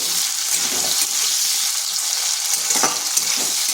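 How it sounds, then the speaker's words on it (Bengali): Cut potato pieces with a little salt fry in a pan for a light browning, giving a close, continuous sizzle with faint scraping from stirring. "সেই দিকে আলুটা ভাজা হতে থাক"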